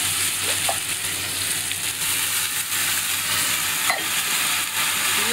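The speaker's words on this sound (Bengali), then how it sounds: "আর ভালো করে নেড়ে চেড়ে ভেজে নেব" Vegetables, softened tomatoes and soaked rice sizzle and fry in a pan for veg pulao, a steady loud crackle with a few light scrapes of stirring on top.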